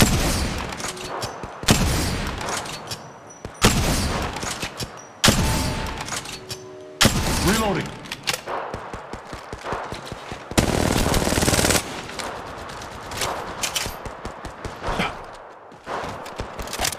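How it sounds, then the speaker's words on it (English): Gunfire in the mobile game Apex Legends Mobile: loud bursts of automatic weapon fire repeat in short volleys separated by brief pauses, with a longer sustained burst partway through and no talking. "In combat, shots fired at me."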